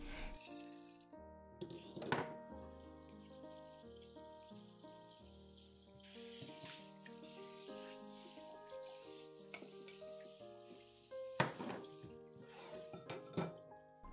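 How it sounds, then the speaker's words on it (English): Rice being washed in water, with soft swishing, dripping and splashes running faintly beneath sparse background music, with a few louder splashes near the end. "Wash rice until the water runs clear, changing the water several times."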